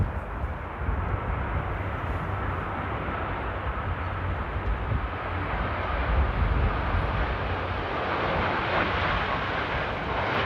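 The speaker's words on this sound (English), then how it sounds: "it is a late but very nice touchdown there" Airliner landing at Amsterdam Airport in stormy weather, a loud, steady roar of jet engines and wind-driven rumble building slightly toward the end, heard from a distance with no talking.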